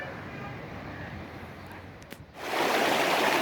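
A stream flowing in the hills at Harnoi near Abbottabad, first faint under distant ambient noise, then a loud, steady broadband rush of water that swells in midway and holds close by.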